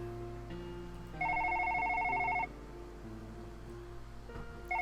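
In a video game, a home telephone rings from the living room with an electronic warbling tone in two bursts separated by a pause, moderately loud over low background hum.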